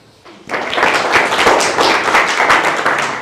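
An audience at a Lords Convent School event breaks into sustained clapping, loud and dense with many hands, starting abruptly and continuing steadily throughout.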